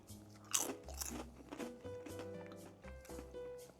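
Plain potato chips crunch loudly and close in a mouth during a taste test, with a few sharp bites followed by rapid chewing crunches and no talk.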